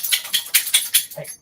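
A pet dog barking indoors with a rapid run of five or six sharp, close yaps, ending in a softer whimpering yelp.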